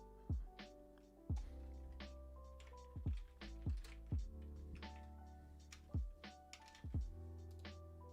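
Keys clack sharply on a computer keyboard in irregular bursts of typing. Each stroke is a distinct close click over a quiet, steady hum, with short pauses between the groups.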